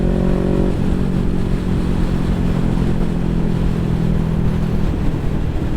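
A 2017 Honda CBR500R motorcycle on the move, its engine a loud, steady drone with a pitch shift early on, mixed with heavy wind rush and no talking.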